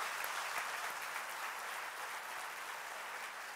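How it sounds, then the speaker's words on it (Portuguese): A church congregation gives a round of applause, a faint, even patter of many hands clapping that holds steady throughout. "Oh, dá uma salva de palmas aí"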